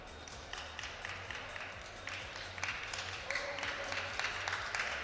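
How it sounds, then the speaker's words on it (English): Spectators at a junior powerlifting championship clap during a deadlift attempt, a steady scatter of applause that gradually thickens and grows louder across the hall. "You hear the crowd clapping for him"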